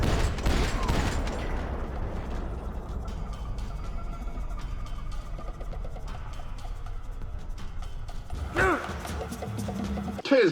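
Gunfire from a Max Payne shootout during a slow-motion shoot dodge, a dense fusillade of shots with booms and impacts running throughout under a steady game soundtrack, with a sharp burst near the end.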